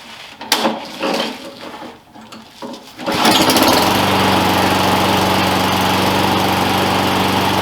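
A lawn mower engine, freshly refilled with oil and with its spark plug refitted, catches after a few rough pulls and settles into a loud, steady running drone that holds to the end.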